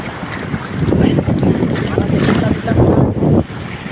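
Strong wind buffets a small boat on big waves, gusting roar and wind noise rising and falling close to the microphone, with water sloshing and voices underneath.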